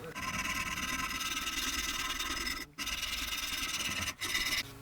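A carved hammerhead shark ice fishing decoy being smoothed and shaped by hand, giving a steady, close, continuous rasping scrape that breaks off briefly twice before resuming.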